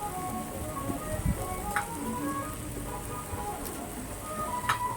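A jackfruit and prawn curry being stirred in a pan gives a steady, close sizzling hiss with occasional soft scrapes and clicks of the spoon throughout.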